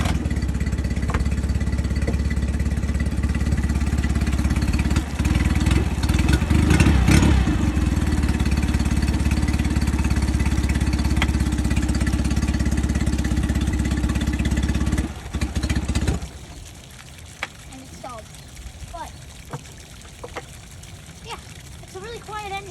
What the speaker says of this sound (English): our 2015 Mercury 8 horsepower 4-stroke outboard motor, which I'm going to be starting up for you guys right here